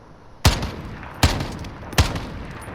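Three single shots from an MK 14 EBR rifle in Call of Duty: Modern Warfare, loud sharp reports spaced evenly about three quarters of a second apart, each followed by a short echoing tail.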